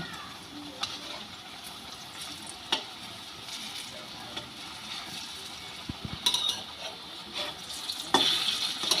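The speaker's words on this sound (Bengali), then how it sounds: "তেলটা গরম হয়ে গেছে এবার ডালের বড়াগুলো ভেজে নেব" Fritters of chickpea lentil batter fry in hot oil with a steady crackling sizzle, broken by occasional clicks and scrapes of a utensil turning them in the pan.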